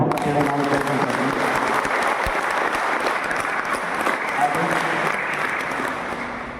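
Audience at a home guards' parents' meeting in Davanagere district gives loud, sustained applause that fills the whole span and fades slightly toward the end.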